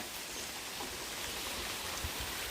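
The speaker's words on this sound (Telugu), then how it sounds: "పైన చూడండి మళ్ళీ వర్షం ఎట్ట పడుతుందో" Steady, soft rain hiss fills the space evenly, with faint drops pattering throughout and no voices.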